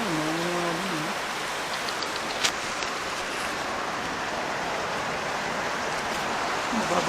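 Heavy typhoon rain pours steadily in a dense, even hiss, with occasional brief drips and knocks standing out above the constant downpour.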